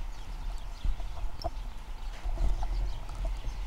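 Donkey hooves clip-clop on a street in Malta, a steady soft clatter of steps over rumbling outdoor ambience, moderately near, with no talking.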